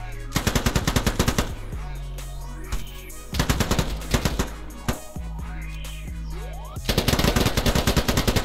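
Gunfire in a Polygon multiplayer shooter game rattles out in loud, rapid automatic bursts, near and sharp, broken by short lulls with single shots before heavy firing returns.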